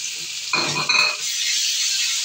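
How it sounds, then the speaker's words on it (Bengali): Ginger garlic paste hits hot oil in a frying pan, giving a short, close burst of sizzling over a steady background hiss. "এবারে দিয়ে দেবো আদা রসুনের পেস্ট।"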